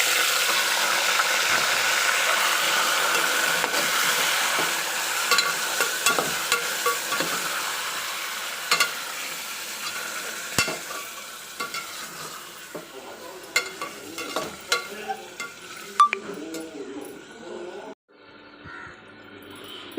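Marinated mutton frying and being stirred in a pan for Tamil mutton gravy, with steady loud sizzling and repeated scraping stir strokes and clinks of utensils, easing off toward the end with no voices.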